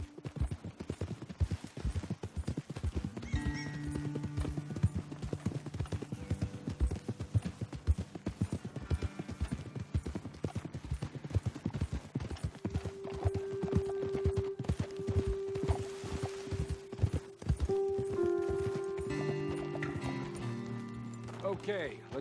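Horse hooves clip-clopping in Red Dead Redemption 2, a steady rhythmic trot of several hooves on a trail alongside a background music score, with a voice speaking briefly over it.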